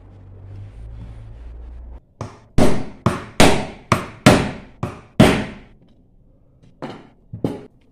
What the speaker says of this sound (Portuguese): Eu improvisei furando aqui com o prego